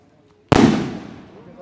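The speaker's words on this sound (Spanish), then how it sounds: "ahí están saliendo ya los cohetes también" Festival fireworks rockets at a patron saint fiesta for the Virgen del Carmen in Gallos Grandes, Tula, Tamaulipas: one sharp, loud burst goes off after a quiet moment, then a long, rumbling decay.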